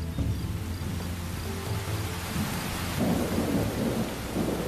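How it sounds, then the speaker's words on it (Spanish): Heavy November rain pours steadily in the wild, a dense, continuous hiss with low rumbling thunder underneath, no voices. "La lluvia cae más fuerte de lo habitual."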